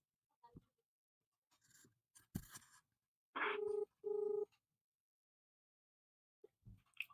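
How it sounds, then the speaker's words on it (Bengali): A mobile phone call is placed during rain, with two short electronic tone bursts standing out among faint taps and handling noises in a quiet room. "এখন ফোন লাগাচ্ছি গাইস"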